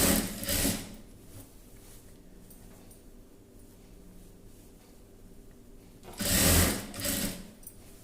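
A sewing machine stitching a child's frock whirs in two short bursts, one at the start and one near the end, with a quiet hum between them.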